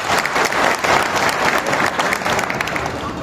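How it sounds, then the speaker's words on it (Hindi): Workers at a Max Healthcare workplace safety event applaud loudly together, a dense, steady burst of clapping that fills the whole moment without speech. "तो एक जोरदार ताली आप अपने लिए बजाओ।"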